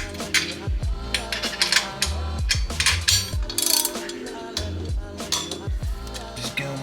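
A torque wrench ratchets pressure plate bolts down on a BMW E28 clutch in bursts of rapid metallic clicks, pausing between bolts, close and fairly loud with no talking.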